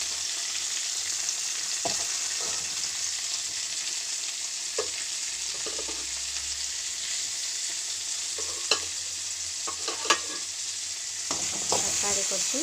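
Onions sauté in a pan with curry leaves, giving a continuous bright sizzle. Occasional scraping clicks come from stirring.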